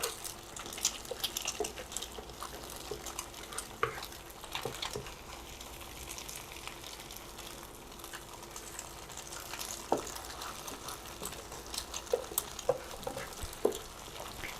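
One salted egg fries with a single red-ripe green chili in a pan, making a low, steady crackling sizzle with scattered faint pops and occasional utensil scrapes, no one speaking.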